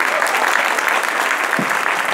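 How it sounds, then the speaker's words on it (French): Audience applause at a children's book fair conference with authors on stage, a steady dense clapping wash from a sizable crowd filling the room, continuous and fairly loud throughout. "On applaudit aussi la traductrice Valentina qui est présente pour traduire nos"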